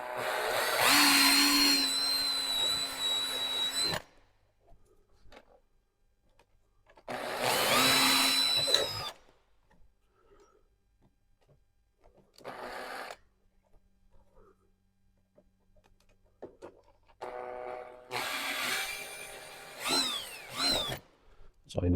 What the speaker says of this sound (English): And then you need to swap your drill bit onto your 4mm drill.